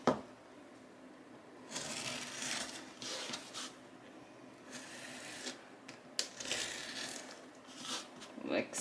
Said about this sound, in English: I'm just taking my X-Acto knife and my cutting board, and I am cutting the edges off of the burlap here